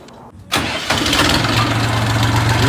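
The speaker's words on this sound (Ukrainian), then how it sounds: "виїжджаємо трактором" Scout XT244 tractor engine cranking and catching, then settling into a loud close idle with a steady low throb, no talk.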